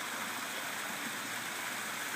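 A pool waterfall of about 40 gallons per minute spills over East Tennessee Mountain Stone, giving a steady, even rushing splash of moderate volume with no talk over it.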